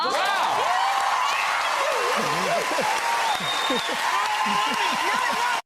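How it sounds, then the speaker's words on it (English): Audience applause at a talk on Hamilton the man and the musical, a steady close wash of clapping held for several seconds alongside a voice singing or talking over it. "The applause is going up here."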